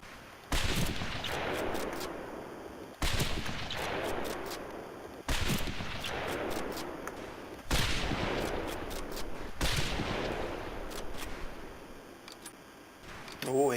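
Scoped rifle shots at a firing range in the video game Medal of Honor Pacific Assault, five loud single shots spaced a couple of seconds apart, each with a long echoing tail and sharp bolt clicks between them.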